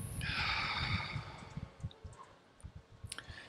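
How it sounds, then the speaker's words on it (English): Slow, steady breathing close to the mic: one long, loud breath drawn in and let out over about a second and a half, then quieter, uneven breath noise with small clicks trailing off. "And another nice, steady breath in and then an out breath to let it all go."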